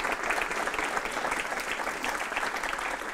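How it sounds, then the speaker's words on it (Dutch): Audience at a Dutch evening gathering on nitrogen policy gives a guest a warm round of applause, a steady wash of many hands clapping at an even level throughout. "Geef een heel groot applaus voor Johan Vollebroek"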